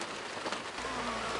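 Rain falls harder outdoors where a bald eagle is being watched, a steady soft hiss of drops on surfaces, faint and continuous with no voices.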